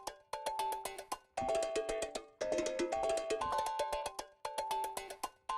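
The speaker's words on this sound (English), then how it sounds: "These tongue drums jams are super cool" Tempo-synced tongue drum jam from a software instrument, with bright struck metallic tones repeating in tight rhythmic patterns and short melodic runs. A brief gap breaks the loop before the phrases resume, all moderately loud with no voices.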